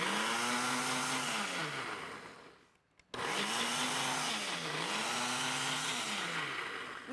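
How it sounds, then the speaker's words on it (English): A blender whirs loudly while pureeing fresh chopped watermelon, its motor pitch rising and falling in two long runs separated by a short stop. "put our fresh pineapple that I've just chopped, or our fresh watermelon that I've just chopped up into just a good blender or food processor"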